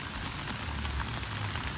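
Rain falling steadily in a continuous, dense hiss with soft patter, heard alone with no voices.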